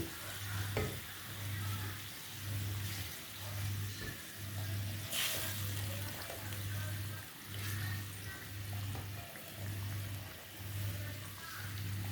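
Fish frying in a pan gives a steady hiss and sizzle that stays loud throughout, with a low pulsing hum repeating in even beats underneath.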